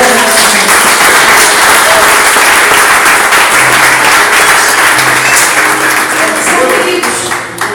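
A church congregation claps and cheers loudly in a dense, continuous wave of applause, fading slightly at the end.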